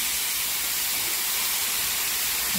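Onion and tomato sizzle in oil in a frying pan, a steady close hiss filling the whole stretch with no talk.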